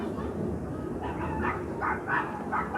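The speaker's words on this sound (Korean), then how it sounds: "지금 강아지가 매우 짖고 있습니다." A dog barks outdoors near a park with trees in front of a home, heard from a balcony as several short barks at middling distance over steady outdoor background noise.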